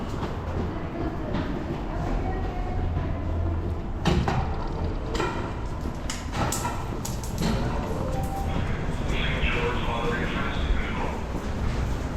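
A Finch West LRT light rail train rides along, with a continuous rumble and rattle inside the car and occasional clunks and squeals over the steady ride noise.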